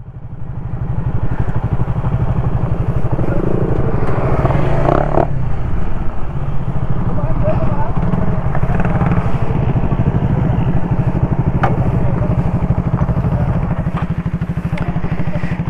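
Two pure-stock motorcycles, a Raider FI and an RS150, race with engines roaring steadily and loudly throughout, a dense continuous drone with rough mechanical clatter and no pauses.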